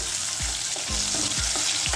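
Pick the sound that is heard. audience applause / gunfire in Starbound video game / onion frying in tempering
onion frying in tempering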